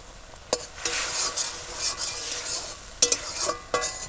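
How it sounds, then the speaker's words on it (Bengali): Tomato kachori filling stirred and fried in oil in a pan, a close soft sizzle under scraping strokes of a spoon, with a few sharper clinks against the pan. "এবার ভালো করে এটাকে কষছি তেলের সাথে"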